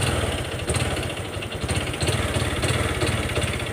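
A Honda Wave 125 motorcycle engine with a noisy connecting rod runs at a steady idle, close and loud, with a rapid rhythmic knocking clatter under the engine drone.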